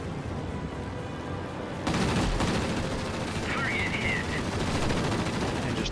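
Aircraft machine guns fire in World of Warplanes from a Ki-43-Ic fighter attacking a P-36, with sustained bursts of rapid gunfire erupting over the engine drone and continuing for several seconds.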